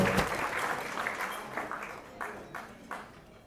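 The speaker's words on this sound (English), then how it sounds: "let's give these folks a round of applause" Audience applause at a political evening event featuring Senator Rand Paul, a brief round of scattered clapping that fades out, heard from a distance in a large room.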